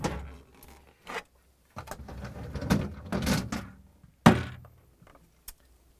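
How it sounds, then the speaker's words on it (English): Vegetable drawers in a Samsung refrigerator are pulled out, giving loud plastic thunks, sliding scrapes and rattles in a few bursts separated by short pauses. "So we need to pull out both drawers."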